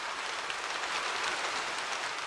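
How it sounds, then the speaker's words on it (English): Gentle rain falls steadily in a continuous soft hiss, even and unbroken, with no voices over it. "Rain that made the whole world one sound."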